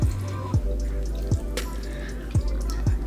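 Water is splashed onto a face at a sink while washing, making several close, distinct wet splashes and drips at irregular intervals over a steady running-water background.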